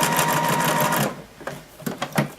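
A sewing machine runs a normal-length seam in a rapid, even burst of stitching for about a second, then stops, leaving a few softer clicks and handling taps.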